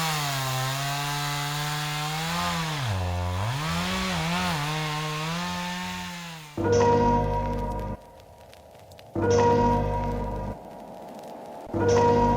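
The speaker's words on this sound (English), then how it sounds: "we're going to be tuning up a chainsaw" Chainsaw engine running: a long high-pitched whine wavering as the throttle is blipped, then three loud bursts of full revving separated by quieter idle gaps, close and alone.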